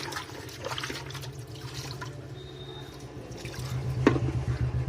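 Water used to rinse an inverter or solar battery: soft splashing and dripping at close range, fairly quiet, growing slightly louder with a sharper splash toward the end, without speech.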